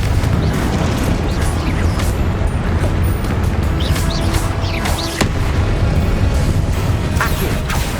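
Fiery Confringo blast spells and combat effects in Hogwarts Legacy, a dense, loud wash of booming bursts and crackling impacts that runs continuously, with sharper pops scattered throughout.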